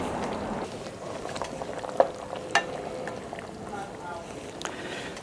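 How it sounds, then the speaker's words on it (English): Potatoes are stirred into massaman curry in a pot: a quiet, steady bubbling simmer with a few soft scraping clicks from the spoon against the pot. "just stir them in, make sure they get a good coating of the massaman curry"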